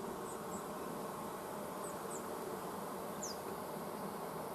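A steady, dense buzzing of many bees in a hive fills the air continuously, with a few higher-pitched insect whines passing through.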